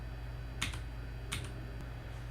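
Mac computer keyboard keys pressed for a Command Shift period shortcut, a few quiet, crisp clicks in two or three small clusters against a faint room hum.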